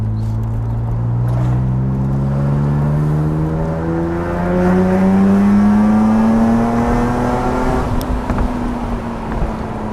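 BMW Z3 M with a swapped S54B32 straight-six revving hard, a loud close engine note climbing steadily in pitch toward high rpm, with wind buffeting the microphone.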